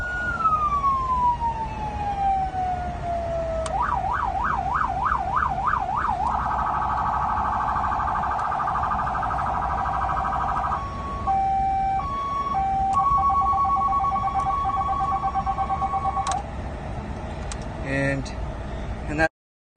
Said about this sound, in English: we got the siren system here, and this is a video of the sirens